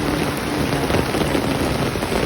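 Steady rain falling outdoors in a garden with plants and soil, a continuous dense hiss at constant loudness with no gaps, alone with no voices.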